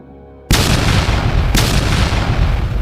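A huge battle explosion in an audio drama erupts after a short quiet lead-in, a loud, close, sustained roar with a second blast hitting about a second later and rumbling on.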